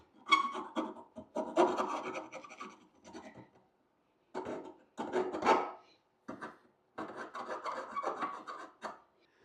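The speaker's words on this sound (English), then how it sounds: "Give these a little clean up with the old file here." A hand file scrapes the burred edges of a metal exhaust bracket for a Yamaha Tenere 700 enduro exhaust install, in close, loud bursts of rasping strokes separated by short pauses.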